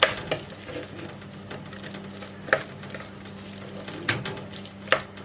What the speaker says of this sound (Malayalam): നമുക്കിതിലേക്ക് 1/2 കപ്പ് തിളച്ച വെള്ളം ചേർത്ത് കൊടുക്കാം. ഒന്ന് മിക്സ് ചെയ്ത് കൊടുക്കാം.